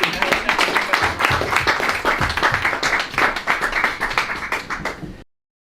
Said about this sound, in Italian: Un applauso, signora.